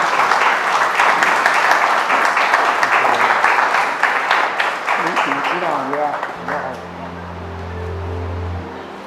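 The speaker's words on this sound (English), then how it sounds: "stand up and applaud him right here so everybody will know" An audience at a Vietnam veterans' reunion applauds loudly and steadily, the clapping thinning out toward the end as a voice and a low engine-like hum take over.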